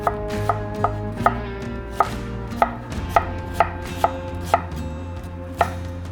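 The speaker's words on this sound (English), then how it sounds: "So I'm gonna julienne these." A knife chops steadily through yellow onions on a cutting board, about a dozen sharp, evenly spaced knocks close by over a low background hum, with no talking.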